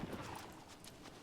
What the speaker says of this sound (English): Okay, horse, I'm gonna need you to stop charging at me like that.